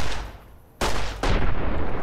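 Loud gunfire in Fallout: New Vegas, two sharp heavy blasts close together, each leaving a lingering roar over a rumbling game background, with no talk.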